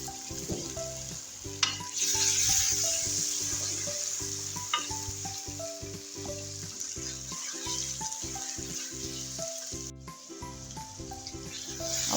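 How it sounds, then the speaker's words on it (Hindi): Tomato paste sizzles and bubbles in a frying pan for aloo gobi, a steady hiss with occasional stirring and scraping, close and continuous throughout. "उसके बाद डालेंगे इसमें टमाटर का पेस्ट"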